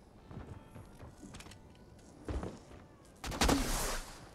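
Gunfire in the Fortnite video game during an indoor fight, a few scattered shots with the loudest burst near the end, over quiet background game sounds.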